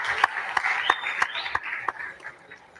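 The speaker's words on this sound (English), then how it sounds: "A round of applause for Hussein as he leaves the panel" Audience applause at a youth citizen assembly panel, a dense patter of claps with a few sharper slaps, fairly distant and fading toward the end.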